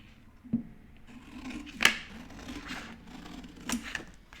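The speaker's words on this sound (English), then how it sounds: "when I cut things out to keep it accurate, I leave my scissors on the table" Scissors resting on a table snip and slide through paper while a sewing pattern piece is cut out, a few quiet isolated crunches and rubbing strokes heard close up with no speech.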